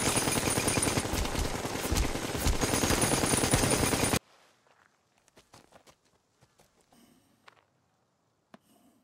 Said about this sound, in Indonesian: Kapten Fisher memberi aba-aba dan semua tahanan tewas di berondong.